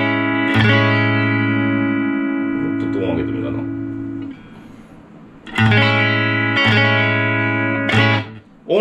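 Clean electric guitar tone through a Fender Tone Master Princeton Reverb amp: sustained ringing chords strummed in two bursts with reverb tails, a quieter gap between them where a voice may briefly murmur.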